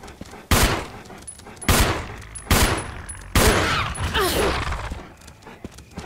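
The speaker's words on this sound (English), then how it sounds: "From bad shooting to very good shooting." Gunfire in the Resident Evil game, four loud sharp shots spaced about a second apart, each with a short booming tail, close and alone without talk.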